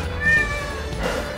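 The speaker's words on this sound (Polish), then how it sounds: "I koty, znowu koty." A cat meows near a cemetery on the Mount of Olives in Jerusalem, one clear drawn-out call, fairly close, over low outdoor background noise.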